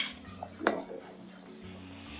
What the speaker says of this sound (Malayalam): ഇനി ഇത് നമുക്ക് നന്നായിട്ടൊന്ന് ഇളക്കി കൊടുക്കാം.